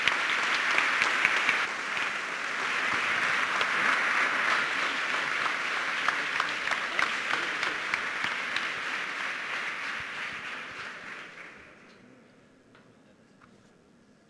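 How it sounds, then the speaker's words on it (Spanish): Sustained audience applause after an architecture presentation in Chile, dense and even for about eleven seconds before tapering off and fading to near silence at the end. "Aplauso."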